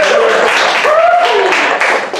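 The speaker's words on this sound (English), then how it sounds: "Give him a round of applause, everyone." A crowd in Kailua, Hawaii gives a brief round of clapping and cheering while voices call out over it, the applause dipping away toward the end.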